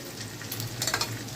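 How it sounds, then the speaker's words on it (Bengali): Leftover rice stir-fried in a hot pan, a close, short sizzle with scraping and tossing noises that rise briefly toward the end. "এবার ভাতটাকে আমি এর মধ্যে দিয়ে দেবো, যেটাকে আমরা বলি ভাত ভাজা"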